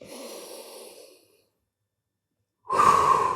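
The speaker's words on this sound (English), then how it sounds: "Nice deep breaths in through your nose." Deep breathing in through the nose during an upper-body jiu-jitsu mobility routine: a soft, steady breath fades out, then after a brief silence a louder, closer rushing inhale begins.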